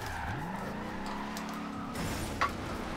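In Forza Horizon 2, a car engine revs and climbs in pitch while tires squeal and skid through a drift, a continuous close roar with a brief sharp chirp near the end.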